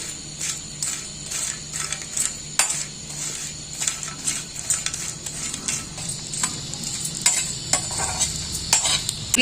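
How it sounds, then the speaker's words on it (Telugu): Dried fish sizzles steadily in a hot pan over a low flame while a utensil scrapes and stirs it in repeated, rhythmic strokes. "సన్న మంట పైన సన్నగా మంచిగా వేయించుకోవాలండి"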